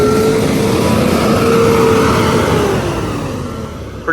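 Volvo dump truck backing up, a loud close engine drone with a steady tonal whine that slowly bends and fades as the truck moves, with no talk.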